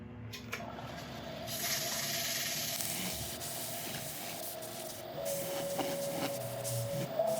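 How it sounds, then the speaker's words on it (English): A figured maple bowl turns on a lathe while a finish is buffed in, giving a steady whirring hiss that continues for several seconds and grows slightly louder toward the end, with no voices. "Now we'll buff this in. The way it works best is that you start off with a slower speed and then increase the speed."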